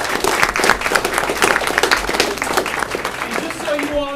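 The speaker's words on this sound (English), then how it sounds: "let's give our students and their coaches a big round of applause." An audience claps together at a school board of trustees meeting honoring a student mock trial team and their coaches, steady dense applause filling the room for the whole stretch.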